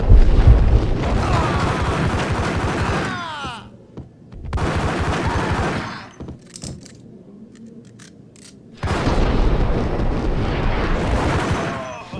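Loud gunfire from the PC game Max Payne, heavy bursts of rapid shots with booming impacts in two long volleys separated by a quieter gap holding a few isolated shots.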